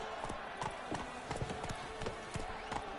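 Roach the horse galloping in The Witcher 3, hooves clip-clopping in a quick, steady rhythm, moderately faint and continuous throughout with no talking.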